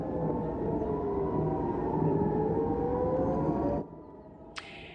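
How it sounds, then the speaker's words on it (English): An air raid siren wails in southern Israel, its long rising and falling tone sounding loud and steady before cutting off sharply, followed by a short faint blip. "for the first time in nearly 2 months, sirens are blasting in southern Israel"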